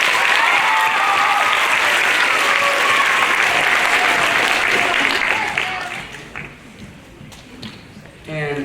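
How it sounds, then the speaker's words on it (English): A school audience breaks into loud, dense applause at a fifth grade graduation after an American Legion Post 400 Auxiliary award; it holds strong, then tapers to scattered claps and shuffling near the end. "Give them one more round of applause."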